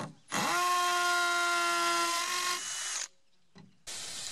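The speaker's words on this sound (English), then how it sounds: "So now with a concrete bit and a piece of scrap underneath, I can pre-drill all my screw holes." A power drill with a concrete bit whines steadily at high speed pre-drilling screw holes in mobile home skirting panels, then slows and stops, followed by a brief second burst of drilling.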